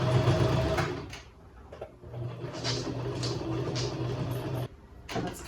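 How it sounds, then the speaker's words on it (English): Sewing machine stitching a homemade washable fabric duster, running in steady bursts of mechanical whirring with brief pauses between runs, close and fairly loud. "I almost want to sew the other side smaller though too"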